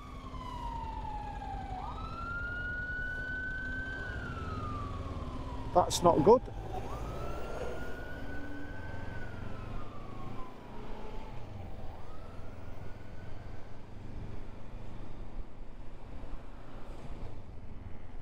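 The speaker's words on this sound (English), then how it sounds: "Fire engine." Fire engine siren wailing as it passes along a Wellington street, its rising and falling tones fairly distant under steady traffic rumble, with a short clatter midway and someone speaking briefly.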